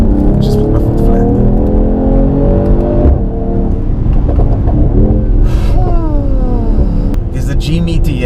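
A Mercedes-AMG GT53 with a 9-speed gearbox accelerating flat out uphill in race mode, a loud steady engine drone with rising pitch sweeps through gear changes, heard from inside the car with a voice talking over it.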